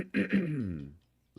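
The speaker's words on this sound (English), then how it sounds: "I'm sorry I keep clearing my throat." A man clears his throat in two quick, rough bursts that trail into a drawn-out voiced rasp, close and loud, then stops into near silence.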